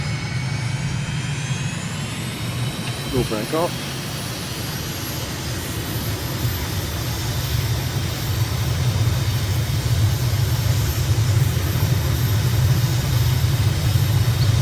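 A light aircraft engine in Microsoft Flight Simulator, flying a recon flight over Kathmandu, Nepal, drones steadily and loudly throughout, with a brief spoken line near the start.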